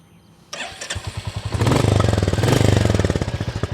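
A Royal Enfield Classic 350 motorcycle cranks and fires up after a brief quiet moment, then settles into its loud, close, steady thumping single-cylinder idle with a rhythmic beat and a couple of throttle swells.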